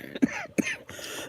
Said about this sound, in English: That's the morning phlegm I have to cough up.